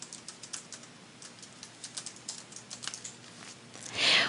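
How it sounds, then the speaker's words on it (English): Rapid, uneven keystrokes on a computer keyboard as a web address is typed in, close and fairly quiet, with a louder burst of clattering near the end and no talking. "Within the link URL, I'm going to type in Advanced Solutions URL."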